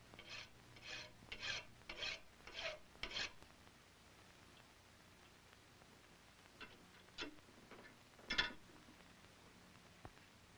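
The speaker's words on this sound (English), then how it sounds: "The only way you can do this is to file down the breech of the barrel until the plug turns around to the proper" A hand file rasps against the breech of a handmade gun barrel in five quick, even strokes at the start, followed by a few sparse, lighter scrapes after a pause, close and fairly quiet.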